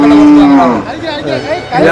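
Cattle moo loudly and close at the Melur cattle market, one long low call followed by further lowing and faint market chatter behind.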